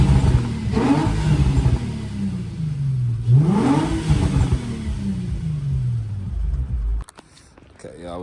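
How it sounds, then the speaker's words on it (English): An Infiniti G35 with a recently replaced valve cover gasket and fuel pump revs close by, rising and falling twice in loud sweeps over a rumbling idle before cutting off abruptly near the end. "We finna rev it."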